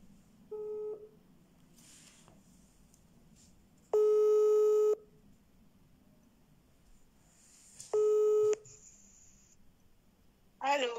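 A telephone line tone sounds in three separate bursts of steady electronic beeping, one short and two longer, with quiet gaps between them. Near the end a brief voice is heard.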